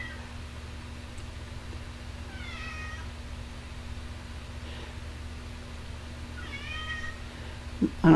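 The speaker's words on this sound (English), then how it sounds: "I don't know if you can hear my cat." A house cat meows twice from across a quiet room, soft rising calls several seconds apart over a low steady hum, followed by a faint rustle at the end.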